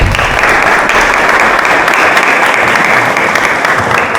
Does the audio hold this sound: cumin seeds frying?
no